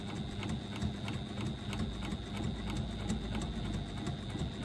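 A sewing machine runs a second line of topstitching on a fabric pouch, a steady close mechanical whirr with rapid even needle ticking, heard alone without talk.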